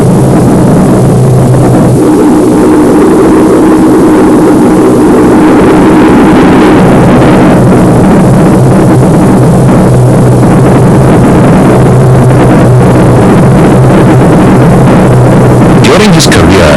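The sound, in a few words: Focke-Wulf 190 reproduction fighter plane flying, engine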